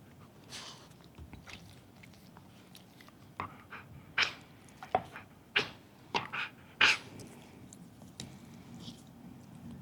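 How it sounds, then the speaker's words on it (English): A dog breathes and snuffles close by, with short wet puffs and snorts clustering midway through, fairly quiet. "Excuse if you can hear my dog breathing on me."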